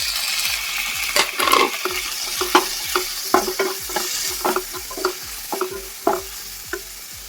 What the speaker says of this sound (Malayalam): ഇവിടെ തക്കാളി കട്ട് ചെയ്തതും പച്ചമുളകും ഇതിലേക്ക് ഇട്ടെടുക്കാം